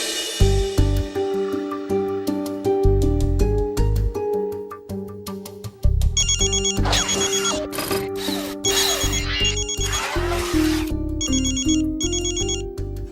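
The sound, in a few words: telephone ringing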